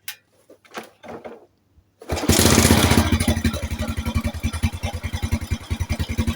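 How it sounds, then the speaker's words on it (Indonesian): A Suzuki Smash motorcycle engine is started nearby: a few faint clicks and bursts give way to the engine catching and settling into a loud, close, rhythmic putt-putt idle that pulses steadily. "coba kita nyalain ya motornya ya"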